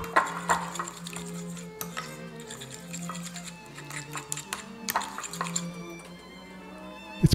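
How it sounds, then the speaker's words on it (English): Miso paste is stirred into a smooth slurry, giving soft wet squishes and light clinks of a utensil against the bowl, faint and irregular over a low, steady background hum. "Just give this a good stir until there aren't any lumps and it's a nice smooth slurry."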